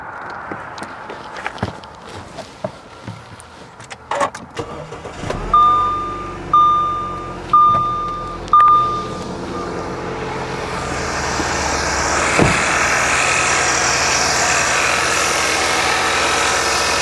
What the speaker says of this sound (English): Let's start the car and see if it runs.